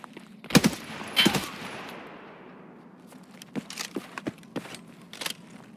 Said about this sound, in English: I heard gunfire underneath.